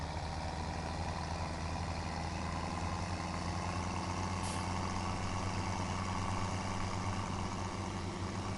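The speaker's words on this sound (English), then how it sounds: "Okay, gotta crank our tractor." A tractor engine runs steadily in the video game Children of the Corny, a constant low rumble with a mechanical drone that holds at an even level throughout, with no talking over it.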